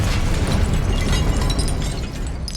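Spell blasts in the video game Hogwarts Legacy, Confringo and Incendio among them, burst in a loud, dense roar of explosive rumble and crackling debris that fills the moment without pause.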